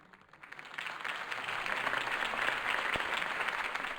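Crowd applause after a campaign speech in Batman: The Telltale Series, rising quickly into a sustained wash of clapping, fairly distant, with a single sharp knock near the end.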